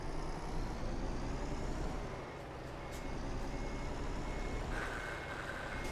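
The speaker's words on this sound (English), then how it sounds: "Can you hear the gearbox grinding away?" A truck in the video game TruckersMP with its gearbox grinding, heard as a steady low, rough mechanical rumble with faint whines and beeps above it, loud and continuous with no talking.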